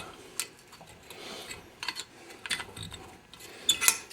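A pointed chamfer tool twists inside a bronze valve guide on a 441 cylinder head, making faint close ratcheting clicks and scraping ticks in a quiet setting.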